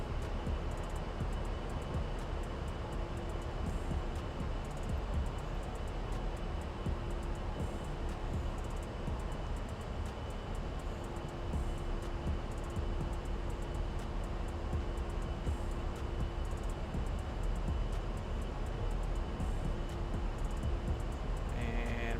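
Twin turbofan engines of an A-10C jet held at a steady, loud broadband roar with a faint whine, continuous and unchanging through the takeoff roll, with no talk.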